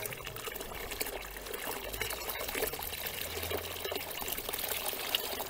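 Hot water poured into a small wax extractor tank to rinse it, a steady low splashing pour and trickle at moderate distance, continuous and fairly quiet throughout.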